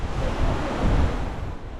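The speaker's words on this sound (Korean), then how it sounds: "동해바다 바로 위에서 파도가 치는 모습을 바라보고 있으니" East Sea surf at Mukho, Donghae, South Korea, heard from an observatory walkway over the water, rumbles steadily with a broad rushing wash, waves breaking continuously nearby, mixed with some wind noise.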